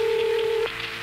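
A single telephone ring tone sounds on a 1979 radio call-in line: a steady electronic burst of about two thirds of a second that cuts off abruptly into faint line hiss.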